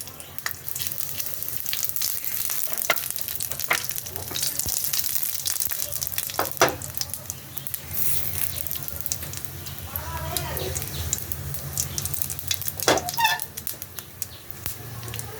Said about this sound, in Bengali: এর মধ্যে দেবো একটা শুকনো লঙ্কা আর একটা তেজপাতা, আর ফোড়নে দেবো আমি রাঁধুনি